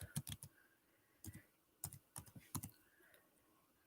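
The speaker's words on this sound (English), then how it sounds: "I'm going to type it here." A computer keyboard is typed on in a quiet room, in small clusters of quick, crisp keystrokes with short pauses between bursts, close and soft.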